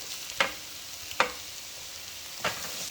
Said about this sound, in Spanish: Sofreímos otro minuto. Agregamos también tomate.